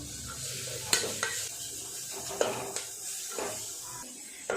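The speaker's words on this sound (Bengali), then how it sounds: "খুব ভালো করে সব কিছু একসাথে নেড়ে নেব" Chopped chicken, onion and spices for momo filling sizzle in a pan, with close spatula scrapes and knocks against the pan over a steady frying hiss.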